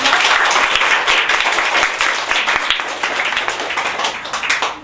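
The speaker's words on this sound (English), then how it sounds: "I want to give him a big round of applause and a big warm thank you" An audience of 5th graders applauds steadily throughout, a dense wash of many hands clapping at once, loud and sustained without any voices standing out.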